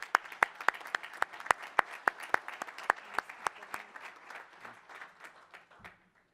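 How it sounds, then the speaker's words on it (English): An audience at a general session applauds its bronze sponsors with a light, scattered round of clapping. Distinct individual claps come in a fairly steady rhythm, then thin out and fade to silence. "If I could have a round of applause for our bronze."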